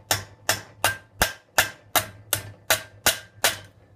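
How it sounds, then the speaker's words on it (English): A hammer strikes sheet steel held on a stake during forging with drawing blows, ten sharp, ringing metallic hits at a steady, even rhythm, close and loud, each decaying briefly before the next. "we're going to use our drawing blows, and that's sweeping the hammer across the surface"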